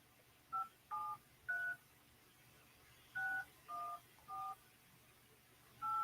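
Touch-tone telephone keypad dialing a number: eight crisp dual-tone beeps in an uneven rhythm, each short and clear over a faint background hum, with no one speaking.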